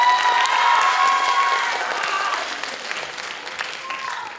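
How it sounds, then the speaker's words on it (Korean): Audience applause in a school hall at a high school admissions information session, welcoming the head of career counselling to the stage; a broad wash of clapping that is loud at first, thins and fades out after a few seconds. "박수로 맞이해 주기 바랍니다."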